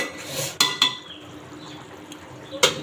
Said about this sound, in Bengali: লাড়াচাড়া দিয়ে দিলাম।